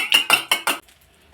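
An egg with a pinch of salt being beaten in a bowl for egg dosa: four quick, evenly spaced strokes of a utensil scraping and clinking against the bowl, close and fairly loud, then a short pause before another stroke begins.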